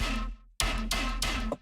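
Heavy tearout dubstep bass synth with overdrive and a thick rack effect, tight and saturated, in short loud growling bursts after a brief cutoff.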